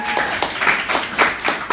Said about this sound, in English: Y'all clap Omaria all the way up to the stage